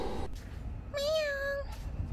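A single clear cat meow, close and drawn out, with a quiet background.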